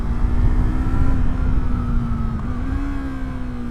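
A 321cc parallel-twin engine from a Yamaha MT-03 hums steadily and close, holding a fairly even pitch with a small rise near the end. The tone is sustained and buzzy, with no talk over it.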